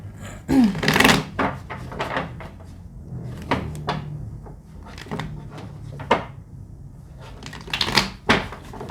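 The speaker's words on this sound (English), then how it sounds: "All right, one more shuffle." A tarot deck being shuffled by hand up close, a run of crisp papery riffles and soft slaps in irregular bursts, with no speech over it.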